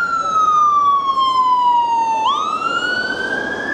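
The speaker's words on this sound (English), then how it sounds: "And there's the ambulance racing up." An ambulance siren wails loud and close at night, its steady falling tone dropping sharply then sweeping back up as the vehicle races past, over a bustling street on a busy evening in Blackpool.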